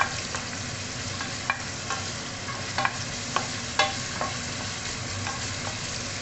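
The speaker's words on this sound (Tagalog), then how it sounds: "igisa lang natin yung ating onion" Onion sautés in a pan for sinigang na salmon, a steady loud sizzle with scattered clicks and scrapes of stirring throughout, no voices.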